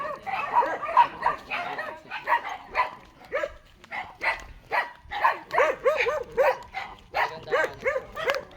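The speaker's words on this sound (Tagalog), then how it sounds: "Ang daming aso." Several dogs on a rural farm property in San Ildefonso bark and yip repeatedly in a rapid, uneven chorus, fairly close and loud, with a few whimpering notes mixed in.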